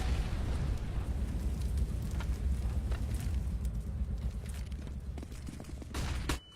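A grenade blast rumbles through Counter-Strike on the de_train map during a Gambit versus Immortals major grand final, a dense low boom rolling steadily for several seconds before cutting off abruptly near the end.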